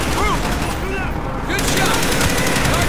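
Scoped-rifle gunfire in Call of Duty: Black Ops comes as a dense, loud barrage of shots blended with continuous battle noise, sustained throughout with a brief lull midway.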